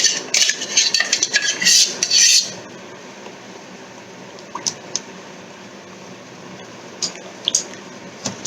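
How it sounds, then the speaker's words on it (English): Blended lentil soup for a healthy shorba being stirred into thin liquid, a burst of wet scraping and clinking of a spoon in a pot at first, then quieter occasional taps and light stirring. "After blending you mix it with the thin liquid."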